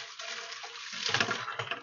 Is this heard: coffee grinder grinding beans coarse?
no